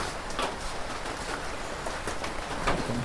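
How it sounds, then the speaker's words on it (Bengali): Steady rain falls on a rural homestead where cattle are kept, a soft even hiss of drops with no voices, holding at a constant moderate level. "বৃষ্টি তো হইতেছে"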